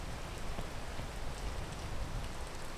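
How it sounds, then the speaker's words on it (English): Steady rain falls in the video game Peak, a soft, even hiss of drops on surfaces with no other sounds. "Oh, hey, rain."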